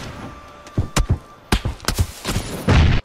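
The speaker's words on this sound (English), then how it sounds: "I killed someone with a grenade?" A grenade detonates in an online squad shooter, a series of heavy booming thuds and bangs layered with other game blasts over about three seconds, loud and close, with no talk on top.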